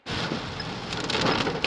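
Heavy rain pours onto a car as it drives, a dense, loud, steady roar of water that starts abruptly and holds without a break.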